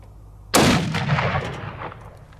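A single .300 Win Mag shot from an Accuracy International Mk13 sniper rifle, a sharp, loud crack followed by a rolling echo that fades over about two seconds.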